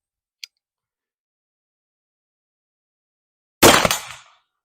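A Traditions Trapper .50 caliber black powder pistol fires a single loud, sharp shot that rings out briefly and decays, preceded by a tiny click of the hammer and near silence.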